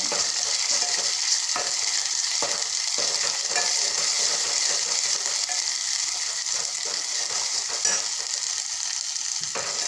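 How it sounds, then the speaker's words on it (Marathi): Garlic paste, fresh coconut and spice masala sauté in a pan with a constant bright sizzle, overlaid by repeated scraping and clicking spatula strokes at an uneven rhythm, close and fairly loud throughout. "आता हे मसाले आपण छान असे एकजीव होईपर्यंत असं मस्त परतून घेते"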